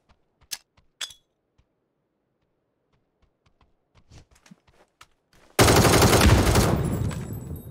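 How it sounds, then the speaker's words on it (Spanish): Gunfire in the battle-royale game PUBG: a few sharp distant shots early, then a loud sustained burst of rapid automatic fire near the end, with no talk over it. "Había tiros."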